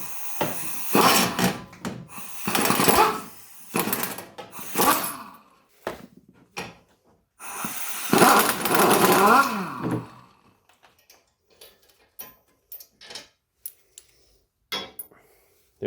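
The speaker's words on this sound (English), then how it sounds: "I like to loosen them by hand, and then I can use the gun." An impact gun works loose the 18mm front brake caliper bracket bolts on a BMW F30, giving several loud rattling bursts over about ten seconds, followed by quieter clicks and handling of parts.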